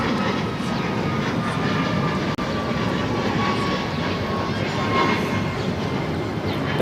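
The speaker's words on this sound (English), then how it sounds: "That was United Airlines 1718 taking off to Kailua Kona on the MAX 9." United Airlines Boeing 737 MAX 9, flight 1718, taking off from LAX for Kailua Kona: a steady, broad jet roar holds at even loudness for several seconds, with no talk over it.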